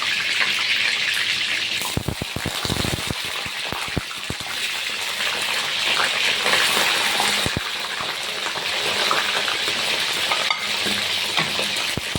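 Eggplant pieces frying in hot oil for a spicy tamarind curry, a steady dense sizzle throughout with occasional stirring clinks and scrapes, loud and close with no talking.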